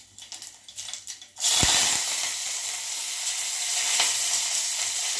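Dried red chillies and curry leaves hit hot oil for a village-style pachipulusu and burst into loud, steady sizzling, after a few light clinks of utensils.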